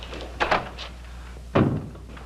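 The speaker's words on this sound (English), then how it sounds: "Close the door." Closing a door in a Western film makes a couple of soft knocks and then a heavier thunk as it shuts, heard nearby against a quiet background hum.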